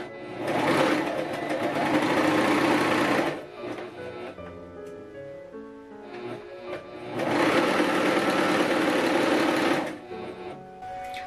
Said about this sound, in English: sewing with a chain stitch machine